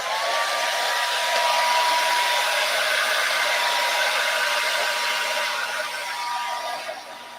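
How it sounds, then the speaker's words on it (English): A hair dryer blows continuously up close, drying material on a prototype, a loud airy whoosh with a faint whine, easing off slightly at the end. "I usually just use a hair dryer on it to speed up the process."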